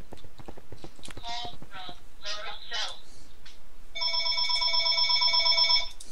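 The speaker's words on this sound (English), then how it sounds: "You gonna answer that phone?" A telephone rings in a ScavengerCraft game session, a steady electronic ringing tone lasting about two seconds near the end, after people talk briefly.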